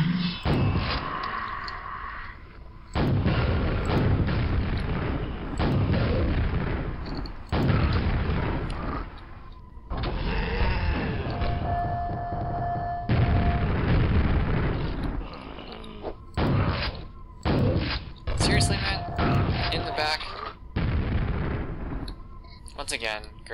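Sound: grenade explosions in the video game Quake

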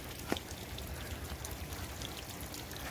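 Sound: rain falling over poultry farm

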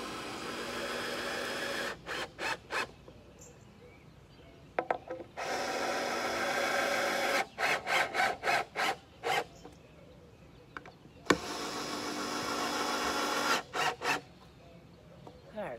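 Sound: screws being driven into wooden shutter

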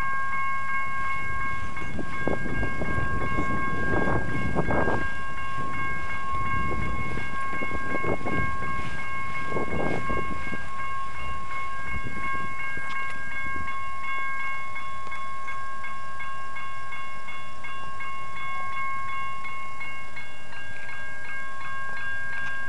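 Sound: freight train passing railroad crossing in Waukesha

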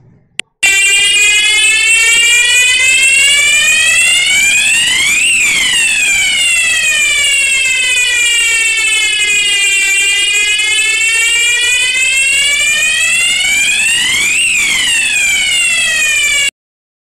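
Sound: fire alarm sounding

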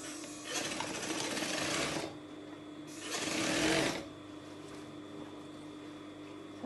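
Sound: sewing machine stitching a cold shoulder dress

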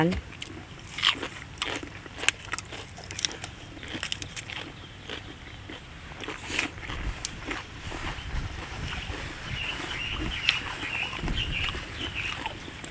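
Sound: chewing crunchy lotus stem and shrimp salad

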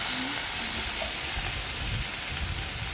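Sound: frying bhindi (okra) masala with turmeric

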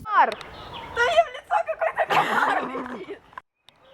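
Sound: partridges calling in the background

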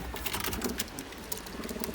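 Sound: pigeon cooing

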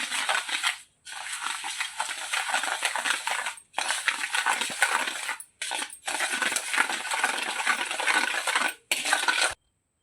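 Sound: mixing sugar and curd in a bowl

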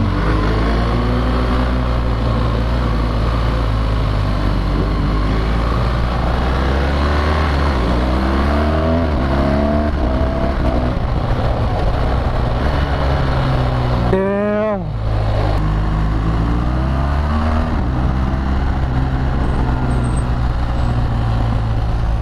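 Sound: BMW R1200GS Adventure motorcycle riding and filtering through traffic

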